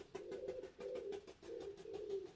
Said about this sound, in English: I could listen to those birds all day. I think they're nesting in a tree just out there, so you may hear them.